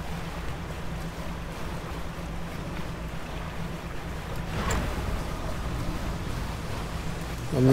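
Steady low drone of a small boat engine in the fishing video game DREDGE, running continuously under a washy wind-and-water bed, with a brief swell partway through and no talking.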